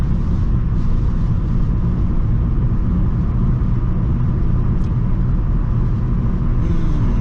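A car drives along a road back into town near Temple, Texas, heard from inside as a loud, steady low rumble of engine and tires that holds constant throughout without talking.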